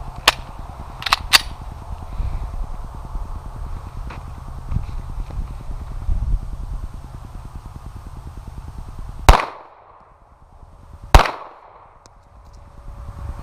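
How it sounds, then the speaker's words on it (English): Two sharp, loud unsuppressed shots from a Glock 23 pistol firing Browning 147 grain subsonic rounds outdoors, spaced about two seconds apart, with a brief ringing decay after each crack. "2 rounds of the Browning 147 grain subsonic ammo, non-suppressed"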